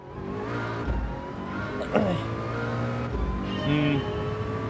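Race car engine in Gran Turismo 7 on a wet track, a continuous droning motor with gear changes and revs rising and falling, tire squeal briefly audible, loud and close throughout.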